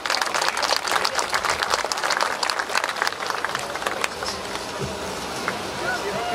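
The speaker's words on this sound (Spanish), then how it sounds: "Por favor, lo recibimos con un muy fuerte aplauso." An audience at a public lighting inauguration ceremony in Zacatecoluca, El Salvador, gives a speaker a warm round of applause, a dense spread of clapping that thins out over several seconds.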